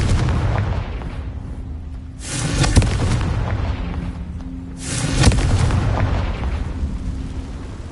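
Two heavy booming blasts of the Confringo fire spell in the Hogwarts Legacy video game, each a loud explosive burst followed by a rumbling decay, spaced a few seconds apart over a steady background din.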